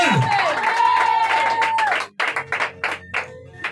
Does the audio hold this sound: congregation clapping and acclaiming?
yes